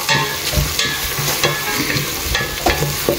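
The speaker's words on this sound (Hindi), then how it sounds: "तर आतां दिता बरो मिक्स" Ginger, garlic and green chilies sizzle loudly in a hot pan as a spoon stirs them, with steady frying crackle and repeated close scraping strokes, no voices.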